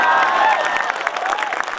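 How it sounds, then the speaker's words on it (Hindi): Audience applause at a Hindi humorous poetry recital, a steady wash of clapping from a crowd that holds for nearly two seconds, with a voice faintly running over it. "बात समझ में आ जाए तो ताली बजाना"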